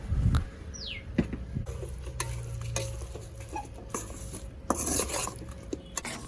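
A spoon scrapes and stirs egg gravy masala in a metal pot, with clinks and clatters of utensils and steady kitchen background noise.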